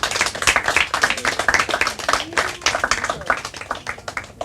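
Enthusiastic group applause at a Portuguese finals results announcement, rapid overlapping claps, fairly loud and continuous, with faint voices mixed in.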